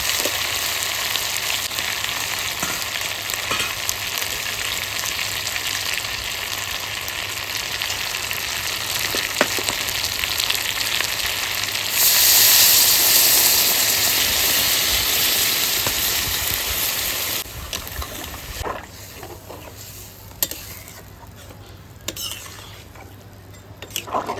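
Hot water goes into a sizzling Patna-style chicken meat curry, setting off a sudden louder hiss over the steady frying sizzle that then settles and fades, with occasional light clinks of utensils and no talking.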